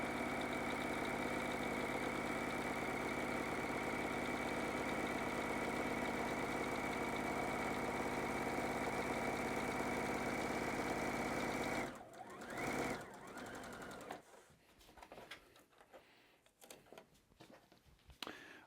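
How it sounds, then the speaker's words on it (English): A sewing machine stitches the seam of a fabric tote bag, a steady, even mechanical whir and rapid needle chatter that runs unbroken, then stops. Short handling rustles and brief bursts of machine noise follow. "start at that other bottom corner and sew up, because that's where the stitching is"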